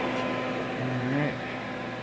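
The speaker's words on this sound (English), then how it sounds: "On this setting, the microwave always kicks on at 35 seconds, so it just kicked on." An Electrolux HSPPAN high-speed microwave panini oven on 208 volts runs with a steady near fan-and-magnetron hum, a low tonal whine rising slightly midway as the microwave kicks on.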